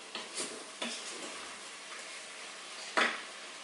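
Meat stirred in a pot with two spoonfuls of veal stock. A few distinct clinks and scrapes of a utensil against the pot sit over a low, faint sizzle, with a sharper knock near the end.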